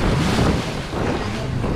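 Rough sea waves surge around a tour boat near the Similan Islands in Thailand, a steady, close, loud rush of water mixed with heavy wind buffeting the microphone, with no talking.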